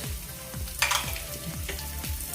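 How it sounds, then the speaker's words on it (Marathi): Urad dal, chana dal and peanuts frying in hot oil make a steady close sizzle, with quick bursts of stirring as the pieces are turned. "हे सगळं पहिल्यांदा मी व्यवस्थित भाजते तेलामध्ये भाजून घेते"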